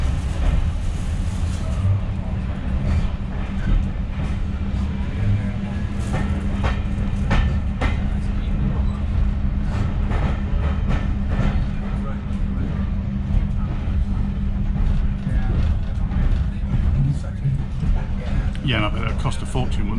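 Diesel locomotives at the Great Central Railway autumn diesel gala give a loud, continuous low engine drone with rolling rail noise throughout, while people talk close by.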